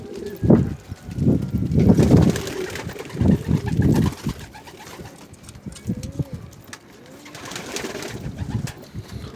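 Native birds of Adana, pigeons, coo and call close by in uneven bursts, louder early on and softer toward the end.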